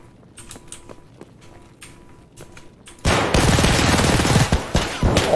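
Glock-18 automatic pistol firing in a first-person shooter video game: after three seconds of quieter clicks and handling, a loud, dense burst of rapid full-auto shots erupts close up and keeps going to the end.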